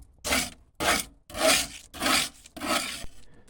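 Thick coating being scraped off the rusty floor pan of a C3 Corvette, five loud, close rasping strokes, each about half a second long, separated by short silent gaps.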